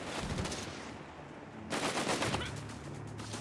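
A .30 cal machine gun rattles in sustained bursts in the video game Company of Heroes 3, a quieter stretch of fire followed by a louder, denser burst, with battle noise underneath.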